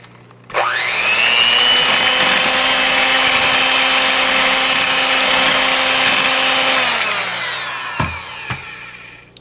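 An electric hand mixer whirs loudly and steadily through German chocolate cake batter for about six seconds, then winds down, followed by a couple of clunks from the bowl.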